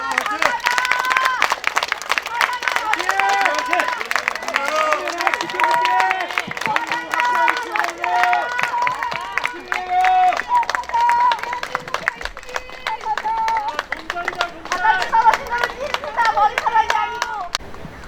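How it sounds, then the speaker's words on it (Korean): A crowd at a Korean press conference claps steadily and energetically, with voices and shouts mixed into the rhythmic applause throughout. "자, 다 같이 박수 칩시다."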